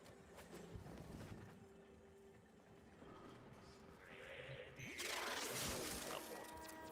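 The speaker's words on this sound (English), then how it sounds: "Oh, that's glass." Glass shatters in the sci-fi game Warframe, a sudden bright crash late in the moment after quieter mechanical hums and footsteps, faint overall.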